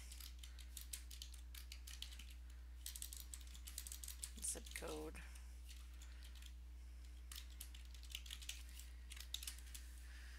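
Soft, rapid clicks of typing on a computer keyboard while filling in an HTML form, faint and irregular, with a brief spoken phrase partway through.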